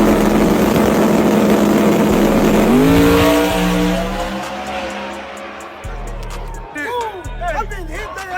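Small block race car engine revving loudly and unevenly, its pitch sweeping up and down through several surges, with tires and crowd noise around it and a voice talking over parts of it.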